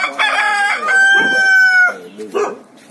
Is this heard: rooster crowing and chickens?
yes